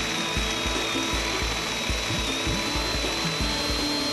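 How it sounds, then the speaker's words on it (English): Feed tap drilling machine cutter grinding steadily into a pipe, a continuous close, loud rasping whir with a rhythmic low pulse from the turning, uninterrupted and without speech. "introduce the cutter into the pipe by continuing to turn the cylinder clockwise"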